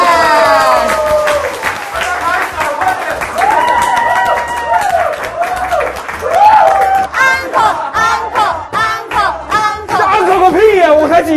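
A crowd at a year-end community party cheers and claps enthusiastically, with shouts, whoops and excited voices rising over bursts of applause, lively and close throughout.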